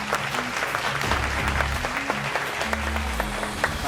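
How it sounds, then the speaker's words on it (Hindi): A studio audience on a TV talk show breaks into steady applause to welcome a guest, with dense close clapping over a low musical backing throughout. "आपकी बहुत सारी तालियों में अक्सा खान"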